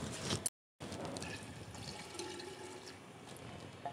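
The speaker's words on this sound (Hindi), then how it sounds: "जब साथ में इसके अंदर मैं 2 ग्लास जो है मैं पानी डाल दूँगी" Water pours from a glass into a cooking pot to make broth for a chicken dish. It gives a soft, continuous splashing and gurgling close by, with a brief pause near the start and no talk over it.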